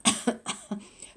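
A person coughs several times in a short burst, close and clear, with no other sound around it.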